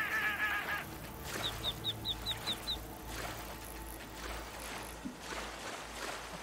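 Ducks quacking in modded Skyrim, a short run of six quick, evenly spaced quacks at moderate distance over steady game ambience, with no talking.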